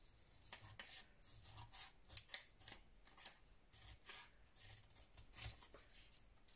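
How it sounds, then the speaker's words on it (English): Scissors cutting around a paper shape for a vintage botanical file folder craft project, making a quiet, close series of soft, irregular snips with no talking. "So I'm going to cut round it properly."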